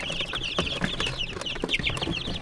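Chocolate Marans hens and other chickens cluck nearby in a busy, overlapping chatter of short calls, with no voices.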